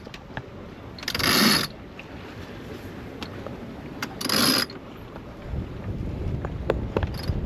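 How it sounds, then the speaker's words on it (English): A sailboat winch ratchets as the reef clew line is tightened, two loud bursts of clicking pawl and gear noise over steady wind and boat ambience, followed by lighter mechanical knocks. "I'm gonna go ahead and tighten this."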